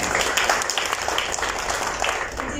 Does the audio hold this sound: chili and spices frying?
no